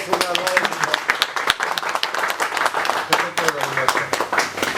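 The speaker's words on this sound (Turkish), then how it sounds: "Alkışlar." An audience applauds at a plaque presentation during a Turkish harbour master's handover ceremony, with steady clapping throughout and a voice speaking over it.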